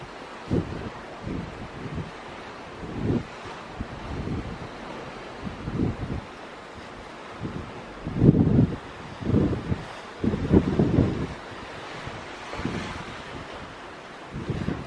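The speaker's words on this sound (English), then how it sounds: "Here, I'll let you just listen to the water." Wind buffets a microphone on the open deck of a Carnival cruise ship at sea, with loud irregular gusts over a steady wash of calm ocean water and no talking.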